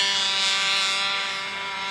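A model airplane's engine and propeller strain hard under load at an SAE Aero Design competition, giving a loud, steady, high-pitched drone with a bright whine that holds throughout and fades only slightly near the end.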